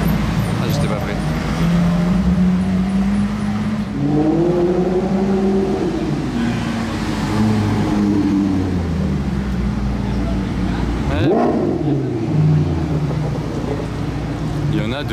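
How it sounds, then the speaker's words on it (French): A Ferrari Monza SP2 engine rises and falls in pitch through revs and passes, heard over steady street traffic with people chatting nearby throughout. "Oh, la Ferrari."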